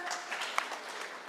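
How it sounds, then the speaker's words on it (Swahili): An audience claps in a short burst at a public security forum in Bomet County, Kenya. The applause is moderately loud with a sharp clap peak, and a voice carries over it. "mpigie makofi kwanza"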